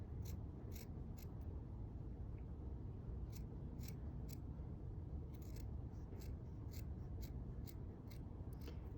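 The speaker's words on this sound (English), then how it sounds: "These are not fabric scissors, so they're not cutting very well." Non-fabric scissors snip at black felt up close, giving a series of short, sharp, crisp clicks that come in small irregular clusters over a quiet hiss of background noise.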